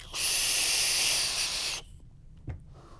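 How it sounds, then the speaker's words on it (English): A Vaporesso SWAG 80W mod fired at 80 watts with airflow wide open gives a loud, steady airy hiss for nearly two seconds, close up, followed by quiet and a brief soft thump. "It's wide open airflow, and it's still very, very smooth vape."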